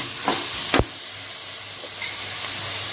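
Leaves dropped into a biryani pot and sizzling in the hot oil, with a couple of sharp clatters near the start followed by a steady close-up hiss.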